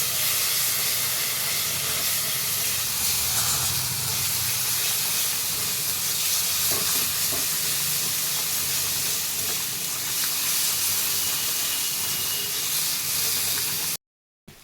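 Spice masala of turmeric and chili powder fries in a pan for an egg curry, giving a loud, continuous sizzling hiss that runs unbroken until it cuts off abruptly at the end.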